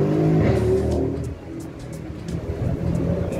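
A Mercedes-AMG car at a supercar club meet in Cape Town, its engine revving loud and close in a sustained, throaty roar that eases briefly mid-way before building again.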